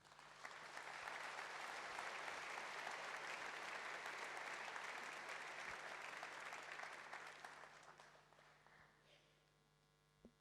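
Audience applause at the Vichy mayor's 2024 New Year address to residents, a sustained wash of many clapping hands that swells quickly, holds steady, then tapers off near the end over a faint electrical hum.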